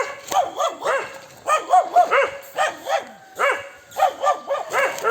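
A dog on a hillside trek barks repeatedly in quick, uneven bursts of barks and yips, close and loud, with no voices.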